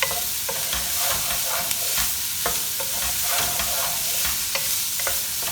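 Onion and cumin sizzle steadily in a lightly oiled pan for saag paneer, a continuous bright frying hiss with repeated scrapes and clicks of stirring, close and alone without talk.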